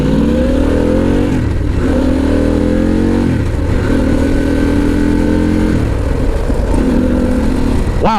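A Harley-Davidson Pan America motorcycle with an aftermarket Stealth cat-back exhaust revs repeatedly with a deep, throaty note, pitch climbing and dropping in several pulls, loud and close throughout.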